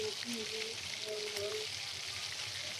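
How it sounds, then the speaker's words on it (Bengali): Onion and ginger paste fries in hot oil in a pan, giving a steady broadband sizzle throughout, close and even, with faint tonal sounds and a voice in the background. "আমি এখন এখানে এক চামচ পেঁয়াজ বাটা আর অল্প করে একটু আদা বাটা দিচ্ছি"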